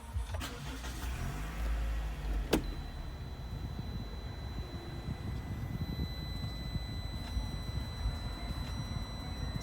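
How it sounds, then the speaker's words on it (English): A 2016 Toyota RAV4 GXL being started, with a brief starter crank followed by a steady low engine idle that continues alone at moderate level. "which I'll just turn the car on quickly to show you"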